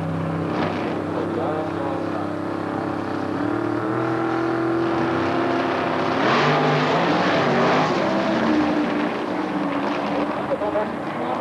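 Drag racing car, David Hance's machine, making a shakedown pass at Etown, roaring steadily and loud throughout from a moderate distance, engine drone dominating with a commentator talking over it.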